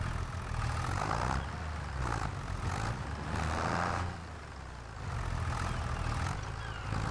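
A tractor engine drones steadily in Farming Simulator on Ronîda Island, a low, fairly quiet rumble that swells and dips as the machine labours uphill, with no voices over it.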